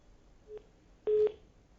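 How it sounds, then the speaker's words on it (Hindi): Telephone line tones during a failed call attempt to a farmer on a Haryana news broadcast: a short faint tone, then a louder steady beep lasting about a quarter second, with low line hiss and no talk. "किशन फोन पर हैं आप?"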